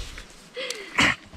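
Someone gives a single short cough during a quiet woodland walk in the Scottish Highlands, preceded by a faint sniff.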